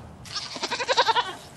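A dairy doe bleats in a single quavering, wavering call lasting about a second, fairly close and clear, with a faint windy background and no talking.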